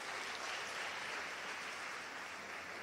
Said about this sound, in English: May we please give Honorable Minister Chikunga a very warm round of applause